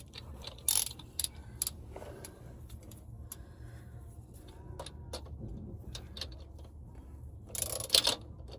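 Part on a Tiffin Allegro Bus motorhome tightened a quarter turn during an oil change, faint ratchet clicks and small metallic clatter spaced irregularly, with distant birds outdoors.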